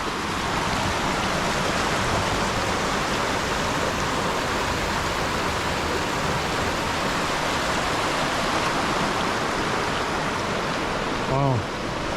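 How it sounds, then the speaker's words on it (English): A crystal-clear mountain river rushes past in a broad, steady roar of flowing water, loud and unbroken throughout, with a brief faint chirp-like sound near the end. "This is one of the most clearest rivers I've seen in a while."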